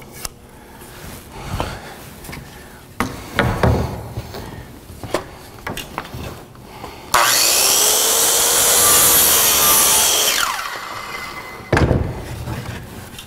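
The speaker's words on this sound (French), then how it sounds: "Je vais venir couper un bout de latte" Sawing through a piece of wooden lath: a loud, steady cutting roar lasting a few seconds, set between scattered knocks and handling clatter from the workbench.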